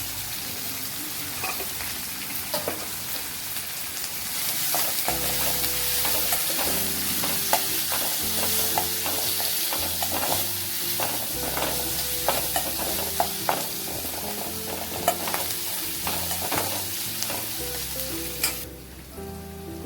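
Onion, curry leaves and turmeric frying in a pan, a steady close sizzle broken by repeated stirring scrapes and clinks, with no talking.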